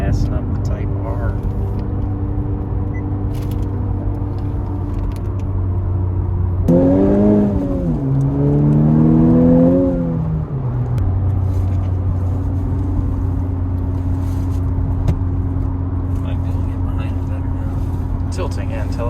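A 10th generation Honda Civic Type R idles and cruises with a low steady drone, then revs sharply through a few rising pulls midway before settling back, heard from inside with occasional talking.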